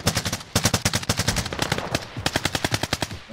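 Automatic gunfire in Call of Duty: Modern Warfare, loud rapid bursts of close machine-gun shots with brief gaps, played alone without talk.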